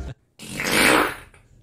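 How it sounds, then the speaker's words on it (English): A girl passes gas in an elevator, a loud, drawn-out rasping blast of about a second after a short pause, rising and then tapering off. "Just normalizing girl farting."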